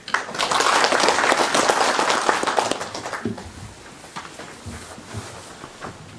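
At the Nogeun-ri Peace Prize award ceremony, the audience breaks into loud, dense applause to welcome a speaker to the podium. The clapping lasts about three seconds, then thins and fades into quieter room noise.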